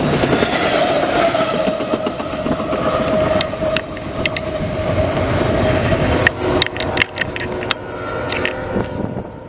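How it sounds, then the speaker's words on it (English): CSX Q009 intermodal freight train led by a GEVO locomotive rolls steadily past at close range, a loud continuous rumble of wheels and cars with sharp clacks and squeals over rail joints. "Q009 is an intermodal train from North Bergen, New Jersey to Bedford Park, Illinois."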